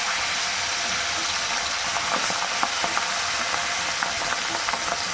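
Pabda fish frying in hot oil over a low flame, a dense, constant close sizzle with faint crackles and tiny pops running throughout, no talking.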